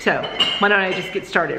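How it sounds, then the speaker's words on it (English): Dishes and cups clink in the background as someone washes up in a kitchen, a few light chinks and clatters scattered under a nearby voice talking. "But she's doing some dishes right now."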